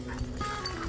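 A puppy whimpers and whines softly over a steady background hum, close and faint, with no talk.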